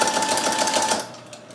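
Sewing machine stitching through layers of paper towel at a quarter-inch seam, running in a fast steady rattling whir for about a second before stopping near a corner, leaving quiet room tone.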